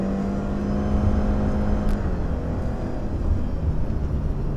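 Engine of a 2018 Subaru Crosstrek 2.0i Premium pulling under acceleration through its Lineartronic 7-speed CVT shifted by paddles, a steady loud cabin drone and whir with a tone that shifts midway, no voices.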